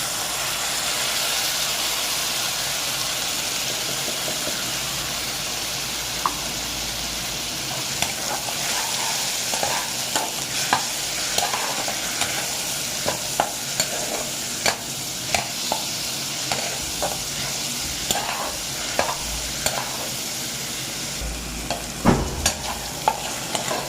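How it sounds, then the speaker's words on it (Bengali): Onions browned in a pan with ginger-garlic paste added for a Bengali prawn malai curry, sizzling steadily while a spoon scrapes and stirs in sharp, repeated clicks close by. "পেঁয়াজটা ভাজা হয়ে গেছে, এর মধ্যে এবার আদা রসুন বাটাটা দেব।"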